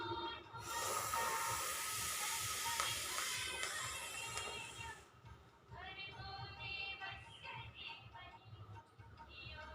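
A long hissing breath drawn in through closed teeth in sheetkari pranayama, steady for several seconds, then a quieter, rougher breathing sound, close and fairly faint.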